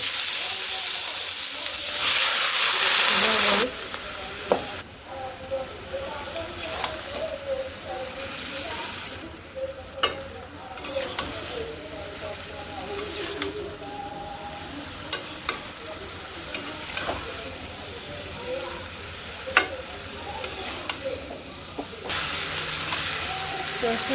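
Mixed vegetables and green chilies frying together in a pan in a village kitchen: a continuous loud hiss and sizzle with scattered stirring clinks, and muffled voices in the background.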